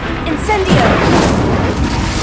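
Incendio fire spell cast in the video game Hogwarts Legacy, a loud whooshing, booming burst that holds steady for a couple of seconds amid dense game effects.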